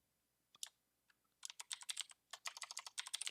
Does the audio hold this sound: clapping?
no